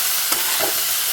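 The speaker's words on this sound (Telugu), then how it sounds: "ఇప్పుడు ఒక 4 ఉల్లిపాయలు, ఒక పచ్చిమిర్చి కట్ చేసి ఇందులో వేసేసానండి. ఇది వేగాలి." Chopped onions and a green chili frying in hot oil, a steady broadband sizzle with a light stir or scrape partway through, no talking.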